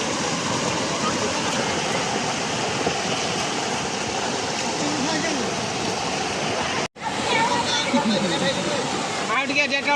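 Rainwater rushing over a small bridge during heavy rain, a steady broad roar of flowing water that runs continuously with only a brief break near the end.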